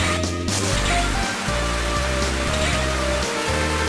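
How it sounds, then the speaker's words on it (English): Acid rain in the video game Mega Man X6 hisses steadily over a looping musical soundtrack with pulsing bass notes, the patter continuous and fairly loud throughout. "It's not just normal rain, it's acid rain!"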